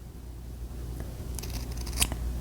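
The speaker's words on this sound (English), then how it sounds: "you're going to trim the edge over here" Fabric scissors trimming the seam edge of a lined doll coat collar give a few quiet, crisp snips near the end, over a low steady room hum.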